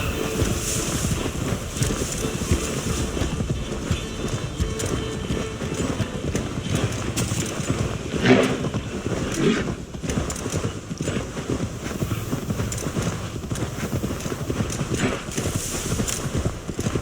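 Horse hooves gallop steadily in an Assassin's Creed Valhalla video game, a continuous rapid clip-clop rhythm with wind noise running throughout at even loudness.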